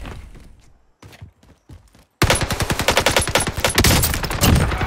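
A PPSh submachine gun fired from the hip in Warzone: a few sparse shots and clicks, then a sudden loud sustained burst of rapid automatic fire lasting several seconds.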